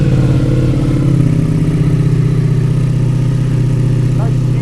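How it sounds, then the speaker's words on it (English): A motorcycle fitted with a BT Moto Tune exhaust idles loud and close, a steady deep raspy rumble that keeps going throughout and sits under brief voices. "the sound of this bike with that exhaust is it's awesome"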